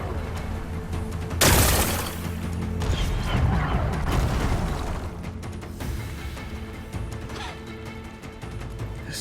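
Rocks blasted apart with explosives in Horizon Forbidden West: a sharp crashing burst early on, followed by rumbling debris, clattering mechanisms and scattered smaller impacts, fairly near and moderately loud.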